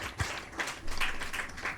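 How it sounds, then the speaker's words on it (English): A small audience at a panel event on women and taxation in Nigeria claps briefly, a short soft burst of scattered applause. "Please, let's clap and celebrate them."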